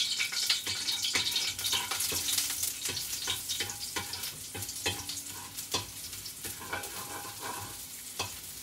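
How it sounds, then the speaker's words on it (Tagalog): Garlic sizzles and crackles steadily in hot olive oil, a close, busy frying hiss broken by frequent sharp pops and the scrape of stirring, continuous throughout with no voices. "Pag mainit na po ang ating oil, ilagay na po natin itong garlic"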